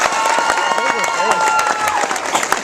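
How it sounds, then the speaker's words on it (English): Audience applause for performers after a round of skits: a crowd claps steadily and fairly loudly throughout, with voices and cheering mixed in over the clapping. "Give your stars up here one more big ass round of applause real quick"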